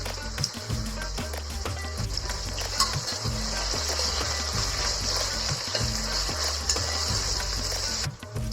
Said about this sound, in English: Fry the onions till it becomes golden crispy brown.